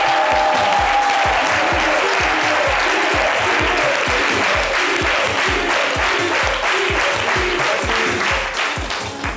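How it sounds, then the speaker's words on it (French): An audience claps steadily and loudly for the whole stretch, dense continuous applause from a crowd gathered indoors for a live show. "Je sais pas si l'applaudissement là"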